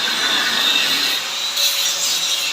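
Continuous harsh, high-pitched grinding of steel being cut, steady and loud with no pauses.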